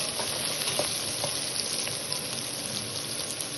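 Potatoes and okra frying in oil with chili powder stirred in give a steady, dense sizzle and crackle, close and even throughout, with faint scraping of stirring.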